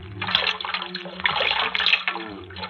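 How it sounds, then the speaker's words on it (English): Cold water splashes and pours in a radio drama scene, a steady close liquid rush lasting a few seconds, loud and alone with no talk over it. "this cold water will help that head"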